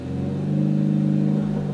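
A BMW M3 G80 tuned to around 600 hp holds a steady, droning rev against the limiter at full throttle on launch control, the engine note loud and close with no voices.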